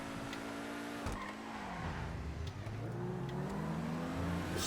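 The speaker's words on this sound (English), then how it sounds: "Respect the Lamborghini." A Lamborghini engine revs in GTA 5, climbing and dropping in pitch through several throttle blips with a brief tire squeal, heard fairly close at a car meet.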